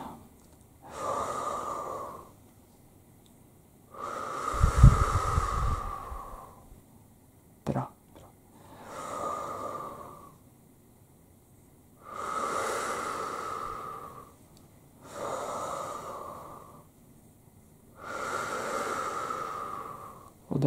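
Deep slow breaths during a guided breathing exercise, long soft inhales and exhales repeating in an even rhythm, close and breathy, with one heavier noisy breath early on.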